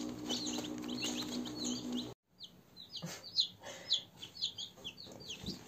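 High-pitched cheeping of many village chicks, continuous and busy, with a low hum underneath; after a brief drop-out, scattered chirps and soft clucks continue nearby.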